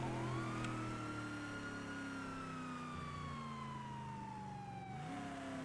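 A police car siren in the GTA RP video game winds slowly downward as a long, falling wail, heard fairly faintly over a steady engine hum, with a brief rise near the end and no speech.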